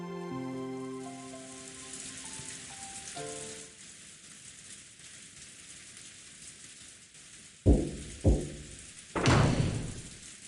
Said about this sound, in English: the obnoxious pounding of the rain against the window